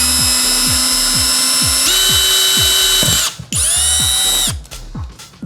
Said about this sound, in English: you're gonna just put this into your drill, sort of like you would a drill bit